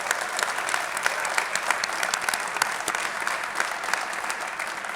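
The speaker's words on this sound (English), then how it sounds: "I wanted to give the women's team and Coach a round of applause," An audience at a press conference for a new university men's basketball head coach applauds steadily for several seconds, with many hands clapping at a moderate, even level.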